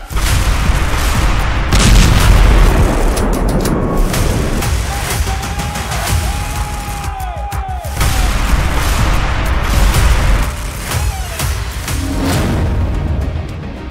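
Loud, continuous barrage of booms and blasts from a drone attack on Russian soldiers in the Russia–Ukraine war, with heavy rumbling explosions and crackling bursts filling the whole stretch, faint distant voices underneath.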